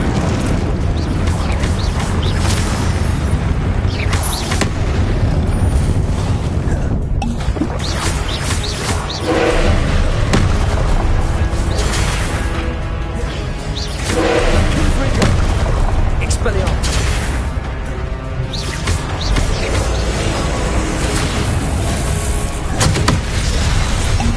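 Repeated spell explosions and booms burst from Hogwarts Legacy combat amid dense game effects, while a voice shouts over the blasts.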